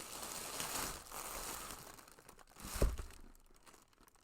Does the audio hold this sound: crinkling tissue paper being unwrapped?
yes